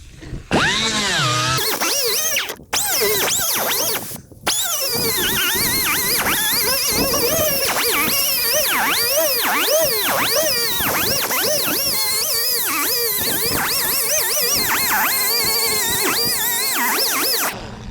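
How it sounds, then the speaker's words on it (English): A power grinder screams and wavers as it cuts away old fiberglass laid over dirt on a Lola T506 race car body, loud and continuous with a couple of brief stops near the start. "This grinding part is really important."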